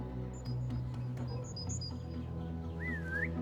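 A short rising whistle from the player character in the video game Assassin's Creed Mirage, heard near the end over a steady low ambient hum and scattered bird chirps.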